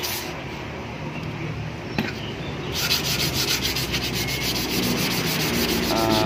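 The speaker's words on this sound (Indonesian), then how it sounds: "Nih gua amplas, mau gua cat dulu bro." Steady, rough scraping of sandpaper rubbed back and forth over a surface before painting, continuous and close, growing slightly brighter and louder partway through.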